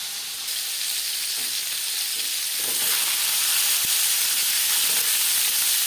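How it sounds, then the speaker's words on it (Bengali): Bhola fish pieces frying in a pan for a winter fish curry with green tomato, a continuous loud sizzle and hiss that swells slightly as it goes, with no voices. "একটা সাইড ভাজা হয়ে গেলে অপর সাইডটা উল্টে দেবো।"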